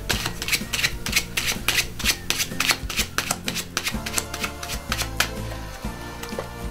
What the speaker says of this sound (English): I'm also going to give them an overhand shuffle.